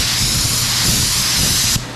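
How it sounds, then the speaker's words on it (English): A spray gun lays a coat of paint on an old truck, a steady close hiss of atomized spray that cuts off sharply near the end. "We want to blow our overspray away from our blend."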